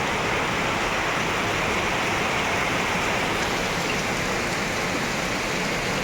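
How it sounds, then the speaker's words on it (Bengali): Heavy rain pours down steadily in a dense, unbroken hiss that stays loud and even throughout, with no voices. "দেখো না বৃষ্টিটা কি দেখো"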